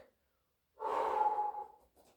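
A single audible inhale during a calm pilates workout with a small fitness ball, a breathy rush lasting under a second, close and fairly quiet, followed by a brief softer breath.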